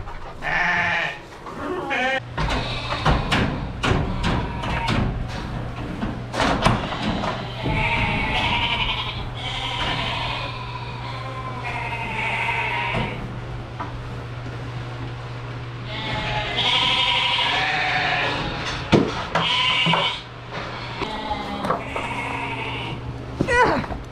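Flock of ewes on a sheep farm bleating loudly and repeatedly, agitated and expecting grain after feed lids rattle, many overlapping calls near and farther off over a low steady hum, with occasional clatter.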